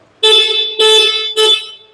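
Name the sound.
Ola S1 Pro Gen 2 electric scooter horn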